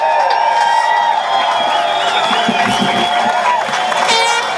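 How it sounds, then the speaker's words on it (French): A lively crowd at a street demonstration in Montreal cheers and claps loudly, with whoops and shouts rising over sustained applause, close and energetic throughout. "On l'applaudit encore une fois."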